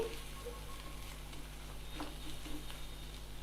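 Methi (fenugreek) leaves fry quietly in a pan, giving a soft, even sizzle with faint patter and occasional light stirring.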